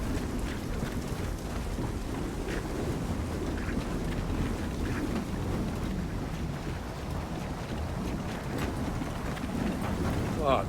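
A wind flare storm in Gears of War 4 brings a constant roaring gale with rain-like hiss and low rumbling, steady and loud for several seconds with no clear speech.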